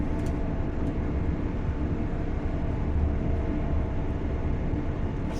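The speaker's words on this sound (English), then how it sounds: "Oh, there's Fly Scotsman." Flying Scotsman steam locomotive in Train Sim World 4, a steady low rumble of train running noise with dense low-frequency churn that holds at an even level throughout, no speech.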